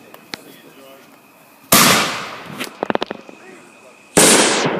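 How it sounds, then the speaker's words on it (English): Fourth of July fireworks go off nearby: a loud burst, a quick string of crackling pops, then another sharp blast, with voices in the background. "Another one of your fireworks."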